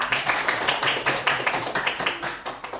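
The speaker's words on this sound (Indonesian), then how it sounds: "Tepuk tangan buat Raisa." Small classroom group clapping for a student in a loose, rhythmic pattern of about a dozen distinct hand-claps, close and moderately loud.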